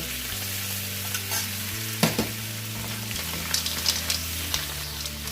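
Canola oil heated with annatto seeds for seafood kare kare gives a steady soft sizzle with a few brief stirring knocks. A low constant hum runs underneath, and no one speaks.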